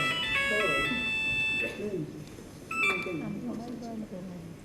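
A mobile phone's electronic ringtone plays a bright, repeating melodic chime in two bursts, with a voice talking over it in a domestic drama scene.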